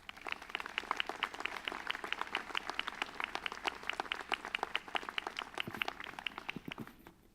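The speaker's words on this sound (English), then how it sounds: "I want to thank you for the applause" An audience of university students and guests applauds a speaker after his introduction, a dense run of many hands clapping together that holds steady for several seconds before thinning out, heard from a slight distance with no talk over it.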